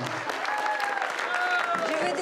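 Party guests gathered in a hall applaud loudly and steadily, dense clapping mixed with cheers and voices talking over it.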